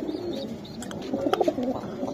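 Pigeons coo in low, rolling bursts close by, the calls swelling briefly in the middle before settling back into a soft murmur.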